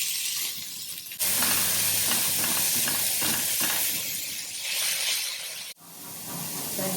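Chopped tomato hits a hot pan with garlic, bursting into a loud, steady hiss and sizzle that holds for several seconds, dips briefly, then surges again, with no voices over it.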